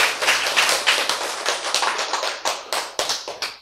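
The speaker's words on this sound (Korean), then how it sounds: "여기에는 박수를 보내야지." A small audience claps at a lecture, a brisk run of sharp, close hand claps that gradually thins to a few scattered final claps, with no talk over it.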